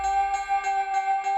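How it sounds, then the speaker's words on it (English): A tubular bell patch from the Heavyocity Mosaic Tape plugin sounds a run of bright, ringing metallic strikes about every third of a second, each sustaining into the next, clear and unaccompanied. "Tubular bell sounds like this."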